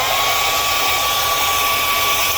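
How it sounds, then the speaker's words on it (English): Hair dryer blowing on wet DecoArt acrylic paint of a painted sunset, a steady loud hiss and whir with a thin whine, unbroken and close throughout. "So I'm going to blow dry this for a second."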